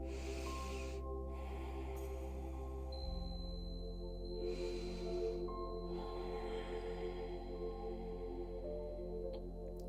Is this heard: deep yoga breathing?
yes